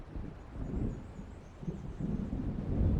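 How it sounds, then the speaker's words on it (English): Distant thunder rolls through a stormy night in Alan Wake Remastered, low and rumbling under steady wind and faint rain, swelling gradually toward the end. "It seems there's a storm coming."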